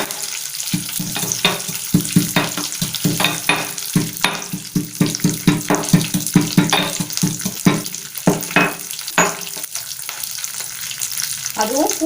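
Dried chillies and crushed garlic crackle and pop in hot oil, a dense run of sharp sizzling bursts over a steady frying hiss, close and fairly loud, with no talking.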